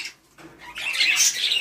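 Pet birds kept in pairs in a breeding setup squawk and chirp, with a brief quiet start followed by a dense burst of close, shrill calls.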